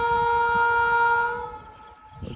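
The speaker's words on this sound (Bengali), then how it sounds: "এদিক দিয়ে ট্রেন আসছে মনে একটা" A train sounds its horn in a rural Bengal village setting, a sustained tonal blast that holds for about a second and a half and then fades, with faint rumble beneath and no talk.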